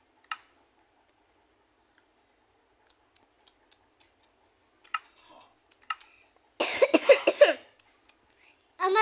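Several short, harsh bursts of coughing, the loudest a cluster of rough hacks near the end, separated by quieter clicks and pauses.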